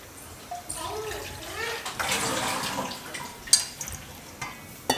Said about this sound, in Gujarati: તો હવે થોડુંક પાણી નાખીશું.